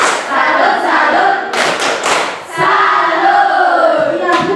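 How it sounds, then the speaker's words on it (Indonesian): Classroom group clapping in a rhythmic tepuk salut cheer for group 1, loud and close, with full bursts of claps and a brief pause partway through before the clapping resumes. "kita kasih tepuk salut untuk kelompok 1"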